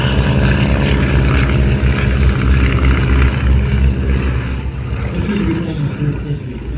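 A propeller airplane at the Flying Circus Airshow in Midland, Virginia drones loudly with a steady buzzing engine tone close by, slowly fading toward the end.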